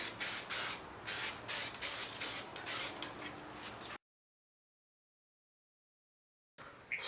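Superwrap is sprayed from a can onto BMW F80 M3 wheels in short, hissing bursts. A few seconds of silence follow, then another spray begins.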